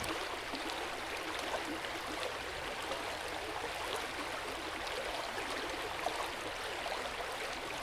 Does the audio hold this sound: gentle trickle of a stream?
yes